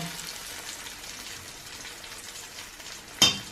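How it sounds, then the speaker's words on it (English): Falafel balls fry in hot oil with a steady, soft, hissing sizzle, ending in a brief louder splash and crackle as another ball drops in. "with your thumb, you go and you push it into the oil"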